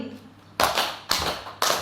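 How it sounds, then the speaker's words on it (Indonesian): A group at a school meeting on teacher vision claps in unison three times, three sharp, evenly spaced bursts close by with quiet between them. "Tepuk 3 kali"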